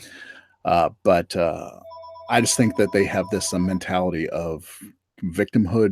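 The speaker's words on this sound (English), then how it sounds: "Sorry for the phone ringing here." A telephone rings in the room, a steady electronic trill sounding briefly under and between a man's continuous speech.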